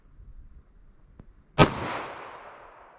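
9mm pistol with a 5-inch barrel firing 115 grain rounds: a faint click, then one loud, sharp shot with a long reverberating tail fading away.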